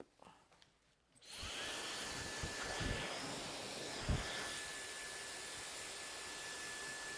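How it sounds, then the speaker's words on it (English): A powerful blow dryer switches on after a moment of quiet and runs steadily close by, a loud continuous whoosh with a faint whine, drying the cap of a half-up half-down quick weave. "I'm gonna go in with the blow dryer and dry the cap."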